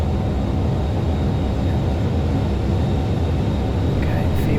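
A Dornier 328 aircraft rolls along the runway in X-Plane 12, a steady loud engine drone with broadband roar that holds constant throughout, close and unbroken.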